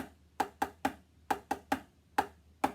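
Sharp wooden drumstick taps played as diddles, two strokes on the same hand, in close pairs and groups, crisp and dry, played alone with brief pauses between clusters.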